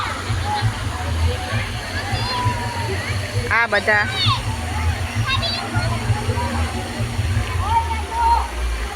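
People wade and slosh through flowing water outdoors, with a steady rushing wash underneath while voices chatter and call out over it throughout.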